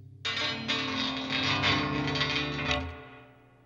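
Electric guitar strings picked close to the bridge in a noise rock style, producing a harsh, distorted wash with two quick attacks that rings on for about three seconds before fading.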